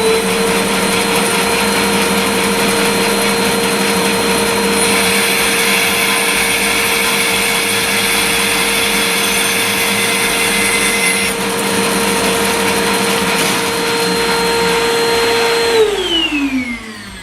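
A SIP professional bandsaw runs steadily while it cuts a 45-degree mitre in wood, giving a loud continuous whine with a sustained tone that winds down at the end, close and alone.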